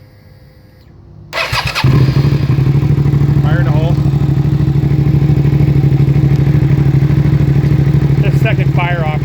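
Suzuki SV 662cc superbike with pistons, cams and slipper clutch fires up after a brief cranking whir, then settles into a loud, close, uneven lumpy idle with throttle blips; a voice calls out just before it starts.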